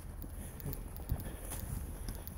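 A horse's hooves clip-clop faintly at a walking pace, soft irregular thuds over quiet background noise.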